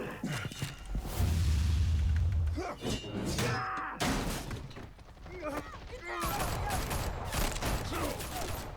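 Gunfire in Batman: The Telltale Series, bursts of shots and heavy thuds mixed with shouting voices and action noise, loud and chaotic in stretches.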